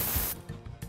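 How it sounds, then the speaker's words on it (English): An aerosol can of RustCheck rust protector sprays onto a vehicle in a loud, close hiss that cuts off after about a third of a second, followed by fainter short bursts. "An aerosol rust protector like RustCheck is an easy-to-use product."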